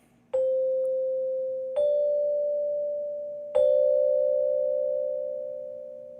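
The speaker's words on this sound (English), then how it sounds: "this second contains 2 half steps. So therefore, we call it a major second" Sustained pure musical tones forming a major second interval, two notes two half steps apart, struck three times at a slow even pace, each ringing and slowly fading, clear and alone.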